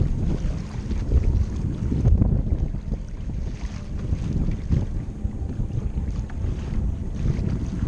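Strong wind buffets the microphone steadily while a small boat driven by a Bixpy jet motor cruises over choppy water, a loud continuous low rumble with no voices.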